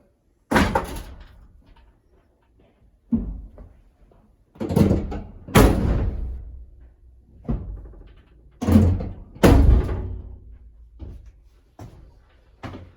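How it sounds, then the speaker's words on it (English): Rear doors of a Ford Transit van fitted with a swivel loading ramp being swung and slammed shut, several sharp thuds and bangs with rattling in between, close and loud. "Let me shut the doors behind myself as well here."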